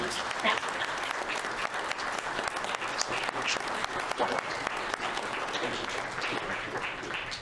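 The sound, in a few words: audience applause for forum candidates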